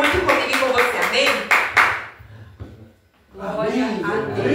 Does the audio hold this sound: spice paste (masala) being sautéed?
no